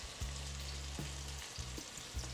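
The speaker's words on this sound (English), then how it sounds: "To that, I'll add some chopped shallots. Listen to that sizzle." Chopped shallots sizzle and crackle steadily in hot oil and butter, with a few soft thuds of stirring mixed in.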